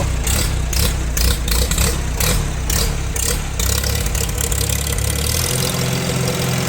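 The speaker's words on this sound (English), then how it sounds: "1947 Farmall A, live and running." The engine of a 1947 Farmall A tractor runs close by in a rough, rhythmic chug, with uneven popping early on before it settles into a steadier idle.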